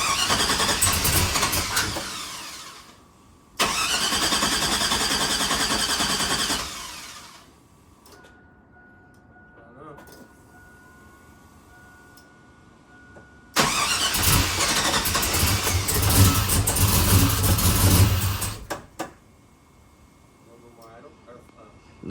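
Chevy Sierra truck engine after a cam swap, cranking and catching in two loud bursts of several seconds each, with quieter gaps between them where people talk.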